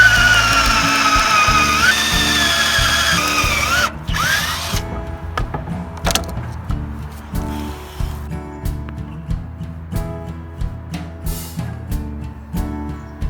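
A power drill whines at high speed, then drives a screw into wooden bed frame boards in short repeated loud bursts, each pulse of the motor close and distinct.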